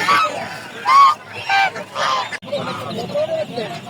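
Geese honk loudly and repeatedly close by at a poultry market, harsh nasal calls in quick bursts, with people's voices mixed in.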